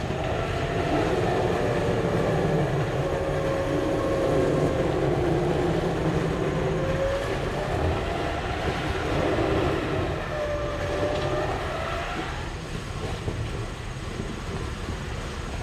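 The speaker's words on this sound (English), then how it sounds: "the very first winch pull, that was actually a good strong pull for the new Openroad" An Openroad Panther Series2 budget winch, fitted in place of a Warn, pulls a vehicle with a loud, continuous motor drone and a rising, wavering whine that strains and eases over the pull.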